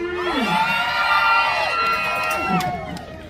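A lively concert crowd cheers and shouts loudly at a Thai stage show, with high excited voices whooping together in a sustained roar.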